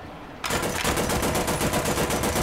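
Rapid machine-gun fire from a tank in War Thunder, a dense, continuous rattling burst that starts abruptly after a brief quiet moment and keeps going loud and close for the rest of the stretch.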